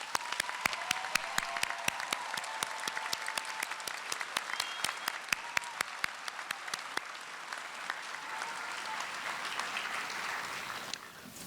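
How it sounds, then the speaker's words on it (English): An audience claps for graduates at a spring graduation ceremony on the Dothan campus, a steady, fairly distant round of applause that continues for about eleven seconds before tapering off at the end. "Let's give these graduates another round of applause."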